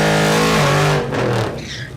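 Mustang drag racing down the strip at Mid America Dragway in Geuda Springs, Kansas, a loud, brief engine roar with harmonic revving that drops in pitch and fades as the car pulls away.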